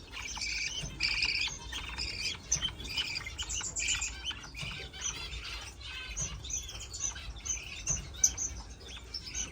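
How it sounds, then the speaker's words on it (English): English show budgies chirp and tweet in a busy, continuous chatter of bright overlapping calls, with occasional wing flutters nearby and no talking. "These are the English show budgies."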